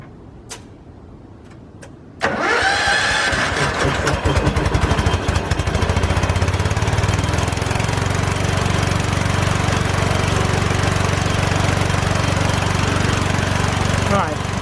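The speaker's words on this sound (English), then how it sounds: "So I'm gonna start back up our air compressor and get this as much as air as possible." An air compressor in a garage, used for brake work on a 2010 Dodge Ram 1500, kicks on abruptly after two seconds of quiet and then runs loud and steady with a constant motor drone and rattling pump chatter.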